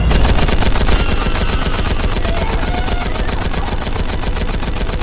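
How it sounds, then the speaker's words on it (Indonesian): Rapid automatic gunfire rattles without pause through a battle scene in a samurai war film, loud, dense and sustained, with no speech. "menyuruh bawahannya menyiapkan senapan serbu yang baru saja dibelinya"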